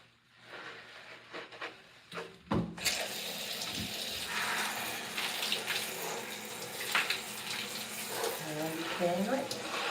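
Water runs from a tap while hair is rinsed, a steady splashing flow that starts after a brief pause and a clunk and keeps going, with soft voices behind it.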